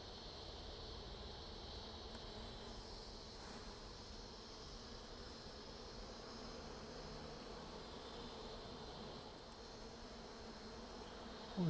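A swarm of honeybees settling into a hive late in the season, giving a steady, dense buzzing hum throughout with no pauses or talk.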